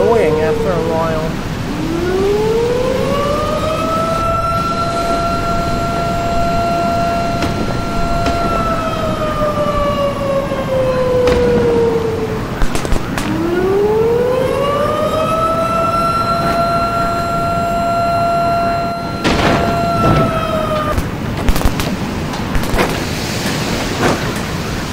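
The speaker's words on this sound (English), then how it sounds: "Siren gets annoying after a while." An emergency siren wails during a storm chase, two long rising and falling sweeps close by over background road noise and occasional voices.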